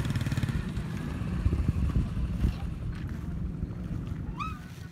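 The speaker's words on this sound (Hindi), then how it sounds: "मोटरसाइकिल पार्किंग में लग गए हैं" Motorcycles idling and rumbling in the parking area of the Chobara Thal Jeep Rally 2020, a steady, fairly close engine drone with some clatter and wind, easing off toward the end.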